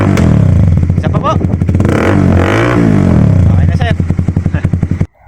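A Honda CBR150 fitted with a Yoshimura Alpha full exhaust with the silencer removed, revved hard and loud close up, with rising and falling engine sweeps that drop into a rapid popping idle before cutting off.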